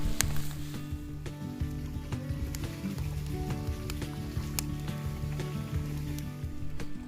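Potatoes sizzle softly in a cast iron Dutch oven over a campfire outdoors, with scattered sharp clicks and scrapes of stirring over a low, steady frying hiss.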